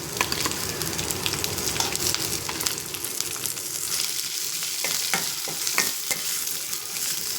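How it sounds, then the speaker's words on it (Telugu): Onions hit hot tempering oil in a village-style dry prawn curry, sizzling loudly and steadily up close while a spatula stirs and scrapes through them in repeated strokes. "తాలింపు వేగిపోయింది. ఇప్పుడు ఆనియన్ వేసుకుందాం."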